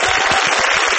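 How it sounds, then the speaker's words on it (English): Studio audience applause on a TV quiz show, a broad, steady wash of many hands clapping for a contestant, loud and continuous through the whole second with no voices over it. "let's have a round of applause for Eileen"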